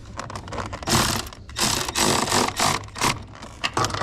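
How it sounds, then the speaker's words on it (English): Ratchet wrench snugging bolts on a Honda S2000, a run of quick clicking bursts that repeat close to the mic in short rhythmic pulls with brief pauses between them. "So now we will use the ratchet."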